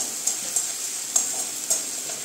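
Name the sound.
stir-frying tomatoes with onion, garlic, ginger and chilli paste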